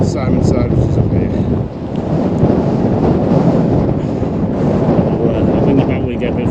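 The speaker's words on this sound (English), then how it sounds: "this wind's terrible" Strong wind buffets the microphone on an exposed hilltop summit in Northumberland's Simonside Hills, a loud, continuous roaring rush that dips briefly before surging again and fills the whole clip.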